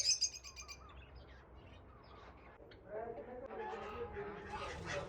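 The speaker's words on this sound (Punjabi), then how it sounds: "ਬੰਗਾਲੀ ਚਿੜੀਆਂ ਨੇ ਆ ਬੈਠੀਆਂ ਬੰਗਾਲੀ ਫਿੰਚ" Bengalese finches in a cage give small scattered chirps and tweets, faint and intermittent, while someone talks over them for much of the time.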